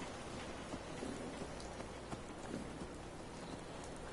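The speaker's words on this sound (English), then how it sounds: "Rain lets up soon." Steady rainfall in a video game, a dense even hiss of drops across the whole stretch with faint hoof-like clops underneath.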